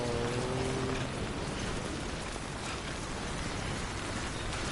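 Timefall rain in Death Stranding pours as a dense, steady hiss of falling drops, loud and even throughout, with a brief low tone fading in the first second.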